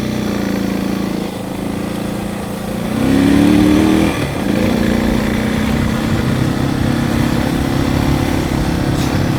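A dual sport motorcycle rides off-road on a trail near home, its engine droning steadily and loudly throughout, rising briefly in pitch as it accelerates before settling back to an even cruise.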